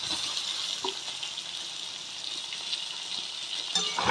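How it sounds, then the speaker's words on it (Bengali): Potatoes and onions fry together in a pan for a tilapia fish chorchori, giving a steady close sizzle with a few light stirring clicks. "আলু আর পেঁয়াজ এবার একসাথে ভেজে নেব"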